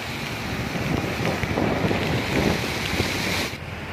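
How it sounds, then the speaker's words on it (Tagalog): Strong wind from Typhoon Ulysses near a market in Balagtas, Bulacan roars in a steady broadband rush with microphone buffeting and gusts, loud and continuous with rain conditions, no voices. "Saka yung medyo malakas pa yung hangin."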